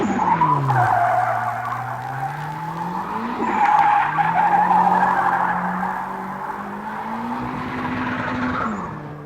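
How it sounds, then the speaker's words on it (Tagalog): A drift car spinning through a 360 donut drift gives a loud, sustained tire squeal with a wavering pitch. The engine roars underneath it, and the sound runs almost nonstop for about nine seconds. "After our initial training, it's time to get busy with a drift car."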